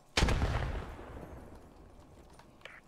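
A grenade explodes in Post Scriptum with one sharp, heavy boom near the start, then a rolling rumble that slowly fades over a couple of seconds.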